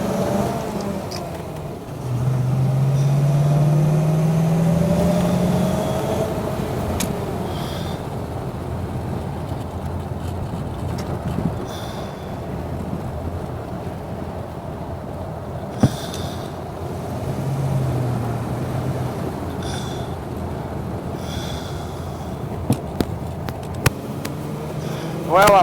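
A 1937 Ford Deluxe four-door with a flathead V-8 cruising on the freeway around 60, a steady low engine drone and road rumble heard from inside the car, with a few faint clicks and knocks.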